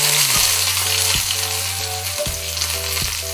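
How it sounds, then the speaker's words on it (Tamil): Onion, green chili, curry leaves, cinnamon, cloves and cardamom sizzle steadily in hot oil for a kurma, a dense continuous frying hiss with a few light clinks from stirring, close and alone without talk. "கருவேப்பிலை, எல்லாத்தையும் போட்டு கொஞ்சம் இதை வதக்கிக்கலாம்"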